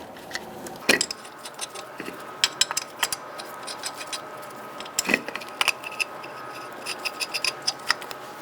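Lug nuts threaded by hand onto a 2012-2017 Hyundai Accent wheel make light metallic clicks and ticks. The irregular taps are close and distinct, with a couple of louder clanks and no talk.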